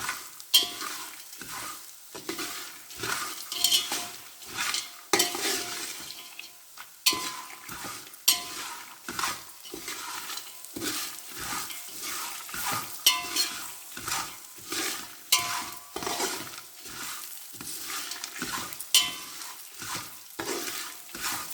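Raw peanuts fry in hot oil with a constant crackling sizzle while a spoon scrapes and clinks against the pan in frequent, irregular strokes; near and clear, no talking.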